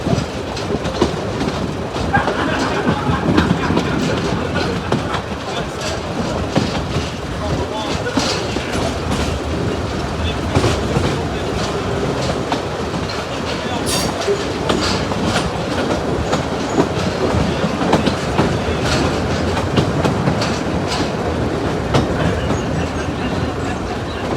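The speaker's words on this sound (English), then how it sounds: "As the train pulls into the rarely used platform 1" A Severn Valley Railway train pulls into platform 1 at Bewdley station during a diesel festival, with steady loud rolling rumble and rhythmic clickety-clack of wheels over rail joints throughout, some faint squeals.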